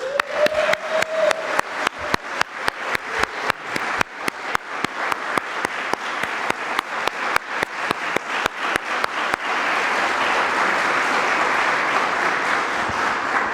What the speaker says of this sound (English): let me have a quick round of applause for two legacy champions of media justice